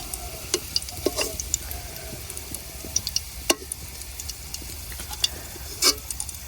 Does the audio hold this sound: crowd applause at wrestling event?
no